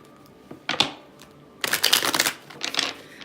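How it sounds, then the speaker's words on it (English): Tarot cards shuffled by hand, heard as a few short riffles followed by a longer burst of crisp, rapid flutter, then a brief final riffle, close and alone. "I think I can stop shuffling now."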